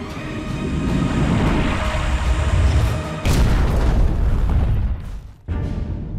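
Heavy booming blasts from torpedoes striking a Japanese destroyer escort in the Pacific War, a deep rumbling roar with a sharp new impact midway and a brief dip before the rumble resumes, loud and without speech.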